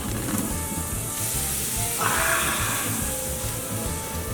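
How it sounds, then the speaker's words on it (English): Room-temperature rib steaks sizzle on an outdoor grill, a steady close hiss and crackle with a brief louder flare of spitting fat midway, no talking. "we're gonna put our room temperature rib steaks"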